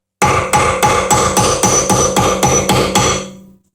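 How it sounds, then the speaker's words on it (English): Ten loud, evenly spaced metallic hammer blows ring out while driving a pin out of a Wilton 8-inch 1780 vise, each strike clanging and decaying quickly, with no talk. "So I'm going to have to hammer on this pretty hard so that I can knock this other pin out"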